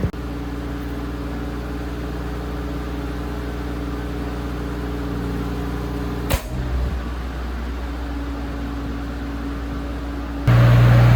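A Generac 25kW liquid-cooled standby generator runs with a steady, loud mechanical drone and hum, broken by a brief clunk partway through before the engine tone settles again and then swells louder near the end.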